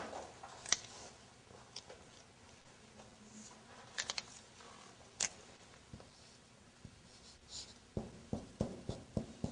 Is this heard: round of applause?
no